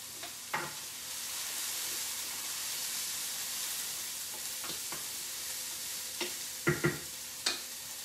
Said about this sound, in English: let's give my stuff over here a stir